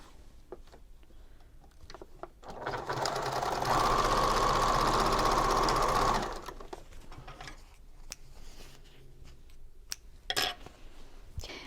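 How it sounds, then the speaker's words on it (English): A sewing machine stitches a dart on a braided boho bag, beginning as soft patter, swelling into a few seconds of loud, steady whirring, then dropping back to quieter handling noises, close up with no talk. "I'm going to start sewing from the outside towards the apex."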